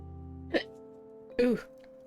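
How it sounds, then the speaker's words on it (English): Two separate hiccups, close and fairly loud, spaced about a second apart over steady low background hum. "Darn hiccups."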